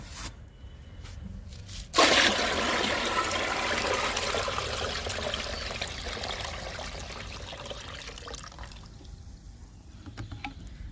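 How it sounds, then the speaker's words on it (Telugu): Groundnut cake liquid poured from a container into a bucket of kitchen waste liquid, a sudden loud gush that begins abruptly and runs steadily for several seconds before tapering to a quieter trickle. "5 లీటర్లు కిచెన్ వేస్ట్ లిక్విడ్కి 10 లీటర్లు శనగ చెక్క లిక్విడ్ కలుపుకోవాలి. ఇప్పుడు కలుపుతున్నాను."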